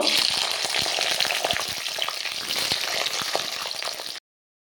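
Cut flat beans fry with spices in a pan for a shrimp dish, crackling and popping steadily up close with dense bursts of sizzle and scattered stirring clicks until the sound cuts off abruptly.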